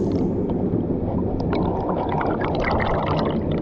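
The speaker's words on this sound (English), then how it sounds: "Check out that waterfall." A waterfall in the Lake District near Blencathra pours in a steady, close, full-bodied rush of churning water with a gurgling texture, holding a constant level throughout with no voices.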